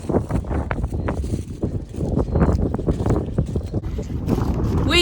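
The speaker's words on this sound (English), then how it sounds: "as you can hear, it's very windy." Strong wind buffets the microphone in loud, continuous gusts during a January game-shooting drive, with rumbling low roar and faint voices of the beating line underneath.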